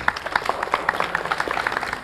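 A small audience claps at a Javanese wayang puppetry show, a steady patter of individual hand claps at moderate distance, fairly faint, with no talk over it.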